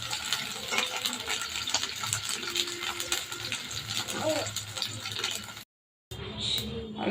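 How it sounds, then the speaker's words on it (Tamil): Eggplant frying in hot oil in a kadai, a steady close sizzle that continues almost throughout, broken by a brief silent gap near the end. "இப்போ இந்த கத்திரிக்காவை இதில் ஃப்ரை பண்ணிக்கலாம்"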